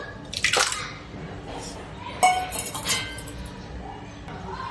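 Soaked oats being tipped into a metal cooking pot, with clinks and wet drips from the pan, a few separate bursts over a quiet kitchen background.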